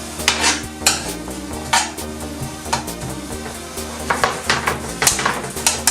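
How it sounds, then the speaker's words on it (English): Oven-baked food shaken on a metal tray, giving a loud, close series of rattling scrapes and clatters in irregular bursts. "Just giving these a shake and putting them back in the oven for a few more minutes."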